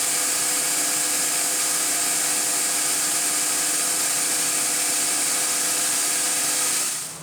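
A cutting tool rubs on an expanding arbor in a machine shop, giving a steady, loud whirring hiss with a constant pitch that carries evenly throughout and cuts off abruptly at the end.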